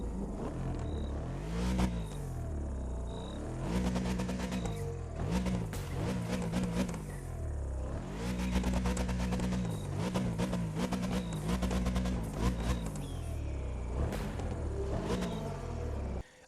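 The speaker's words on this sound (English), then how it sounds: "I guess you really can never get over the sound of a V8." The V8 of a BMW M8 Performance Edition in the racing game The Crew 2 revs and rumbles loudly, rising and falling through repeated accelerations and gear changes over a steady low drone.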